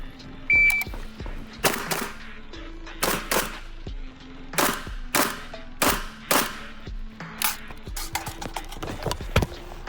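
M90 rifle fired at a shooting range, a series of sharp, loud gunshots in irregular bursts, close, with echoing tails between shots.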